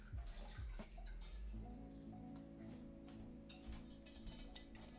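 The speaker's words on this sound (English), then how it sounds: "Quickly strain it and run it through some water." Noodles being strained and rinsed under running water in a home kitchen while making vegan ramen with gluten-free noodles, a steady close splashing flow with a brief clink near the start.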